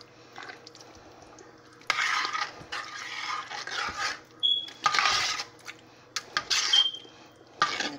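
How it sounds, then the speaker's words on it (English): Cheese being stirred into a meat sauce in a pot, heard as repeated scraping and knocking of a utensil against the cookware in uneven bursts, with a few sharp metallic clinks. "Stirred my cheese in."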